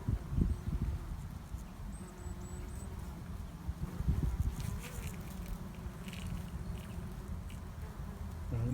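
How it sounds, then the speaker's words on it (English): Insects buzz steadily through a wild garden planted with oregano, a soft continuous drone with faint wingbeat flickers, heard outdoors at a distance under low rustling background noise and no speech. "This is buzzing."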